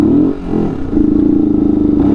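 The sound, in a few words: Yamaha R15 V2 motorcycle riding under throttle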